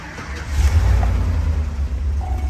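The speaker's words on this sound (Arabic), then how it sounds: "شغل السيارة" A GM Silverado or Tahoe pickup engine turns over and settles into a low, steady idle rumble close by, with no voices.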